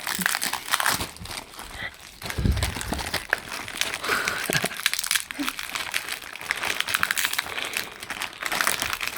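Crinkling plastic wrap being pulled and torn off a Voilamart 1000W 48V electric bike rear wheel conversion kit, steady rustling and crackling throughout, close by, with occasional faint voices in the background.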